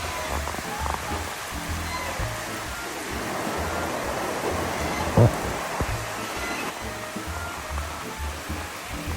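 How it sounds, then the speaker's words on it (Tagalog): Steady monsoon rain in the Philippines hisses as a dense, even wash of noise for the whole stretch, with one brief louder knock near the middle and no clear talking. "it's always raining"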